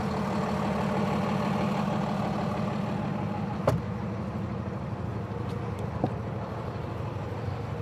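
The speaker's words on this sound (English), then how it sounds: "And then go ahead and start the truck." A 2024 Freightliner M2 106 Plus truck engine runs at a steady low idle, a continuous deep rumble close by with a couple of faint clicks partway through and no talking.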